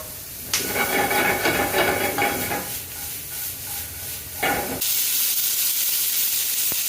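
Garlic, seasoning and butter sizzle in hot olive oil in a pan while cooking garlic butter shrimp, a loud hiss that fades and then flares sharply again.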